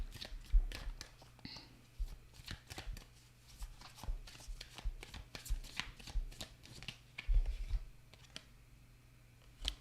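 Tarot cards being shuffled close up, a steady run of soft riffling and clicking taps in irregular bursts, fairly quiet.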